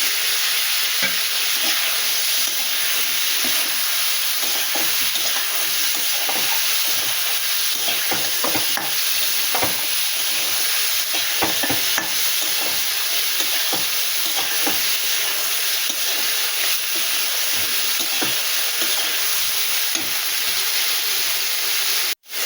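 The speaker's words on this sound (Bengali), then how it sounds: "একটু ধনে দিয়ে দিলাম, একটু জিরে দিয়ে দিলাম। এবারে এটা ভালো করে কষিয়ে নেব। টমেটোটা দিয়ে দিলাম," Spices with turmeric, coriander, cumin and tomato fry and get stirred in a pan, a loud continuous sizzle with scraping spoon strokes throughout, no talk.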